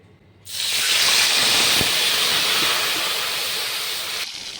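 Ginger water poured into hot oil with two bay leaves and half a spoon of asafoetida, bursting into a loud, sustained hiss and steamy sizzle right after a quiet start, easing slightly before cutting off.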